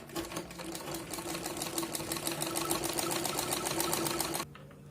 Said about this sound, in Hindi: तो चलिए इसे सिलाई लगा लेते हैं।